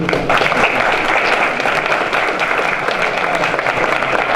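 A crowd gives loud, sustained applause as Mrs. Courtney Snowden is welcomed up at a community event on returned citizens, dense clapping continuing evenly from start to finish.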